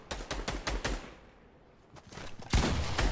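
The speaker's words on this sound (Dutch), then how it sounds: "En deze guy schiet hun." Bursts of video game gunfire in a chaotic firefight, several rapid shots near the start, a lull, then a loud close volley at the end, no talking.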